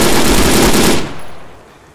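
Sustained automatic gunfire from the shooter game STALKER rattles loud and close in a dense continuous burst, then cuts off, leaving a fading echoing tail.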